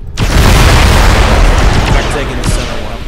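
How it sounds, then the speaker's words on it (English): Weapon fire and explosions as turrets are shot in the mech combat game MechWarrior Living Legends, a loud sustained rumbling boom that swells, then fades with a sharper burst near the end, voices talking underneath. "Let's shoot the turrets."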